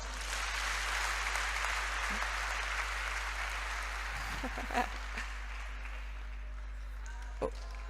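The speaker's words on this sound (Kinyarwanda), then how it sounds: "Ni mu biha amashyi." Applause at a 65th anniversary celebration held at a home, a steady wash of clapping from a gathered crowd filling the whole stretch, with a few louder thumps and voices briefly rising near the middle.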